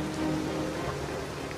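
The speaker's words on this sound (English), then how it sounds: "Pushing on, despite the wind and rain" Steady rain falls on a canal boat under grey, lowering clouds in wind, a continuous broadband patter with no voices, fairly loud and close throughout.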